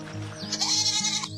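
A goat bleats in a Hindi animated farmer story, one drawn-out wavering call lasting about a second, fairly close and clear, with a faint music bed underneath and no talk.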